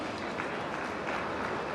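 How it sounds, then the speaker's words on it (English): Audience applause for the speakers at a business partnership summit in Visakhapatnam, a dense steady wash of clapping from a large hall that fills the whole moment without any talk over it. "Let's have a big round of applause for all our speakers"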